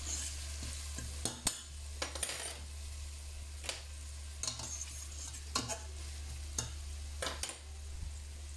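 Onions frying in oil in a pan, a steady low sizzle with sharp clinks and scrapes from stirring every second or so, close and with no one talking.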